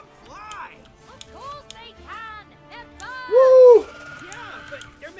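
Birds coo in the It Takes Two video game, a soft high call that recurs through the clip with one louder coo near the middle, all under steady talk from players.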